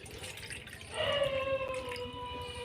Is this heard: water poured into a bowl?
yes